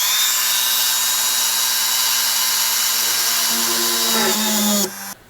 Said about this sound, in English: So now I'm just going to drill the holes.